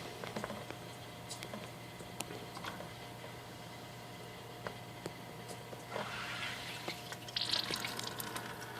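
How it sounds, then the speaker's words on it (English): Water trickles and drips faintly through carbon filters into a bucket, a quiet steady patter with scattered drops and a brief louder splash of pouring near the end, over a low background hum. "the water is going to flow through the filters and then it's going to come out into the bucket"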